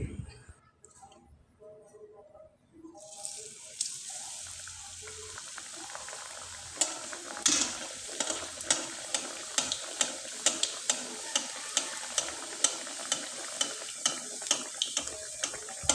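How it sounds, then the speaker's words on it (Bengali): Pitha rice cakes fry in hot oil, starting near silence before a bubbling sizzle builds up, dotted with sharp ticks and clinks of stirring that come at a fairly regular pace. "এবার পিঠাগুলোকে ভেজে দেখিয়ে দিচ্ছি"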